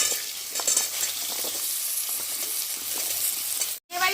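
Panch phoron, radhuni seeds and chopped vegetables sizzling in hot oil in a pan, a loud, steady crackling hiss with faint stirring scrapes, briefly cut off near the end before the sizzle resumes.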